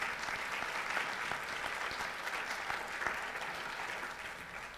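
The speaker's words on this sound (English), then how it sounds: "So please give her a round of applause." Audience applause at a conference session on building efficiency and electrification, a steady dense wash of clapping that holds evenly for the whole stretch before fading slightly at the end.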